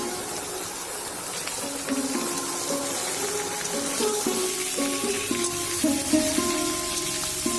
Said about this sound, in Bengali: এইবারে সবজিটা ভেজে নেবো মানে কাঁকড়ার সাথে যে সবজিটা রান্না করব সেই সবজিটা আমি আগে ভেজে নেবো আলাদাভাবে